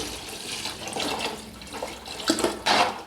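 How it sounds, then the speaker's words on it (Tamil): Water splashes and gurgles as it is poured into a cooking pot for biryani rice, a continuous close sound that swells louder toward the end. "தண்ணி ஊற்றியாச்சு"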